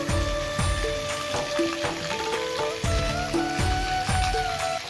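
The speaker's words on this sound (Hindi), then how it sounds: "तो रात की 8:30 बजे बाहर खतरनाक बारिश हो रही है" Heavy nighttime rain in the mountains patters and drums close by in dense, irregular drops, with sharp plinks on a hard surface over a steady hiss.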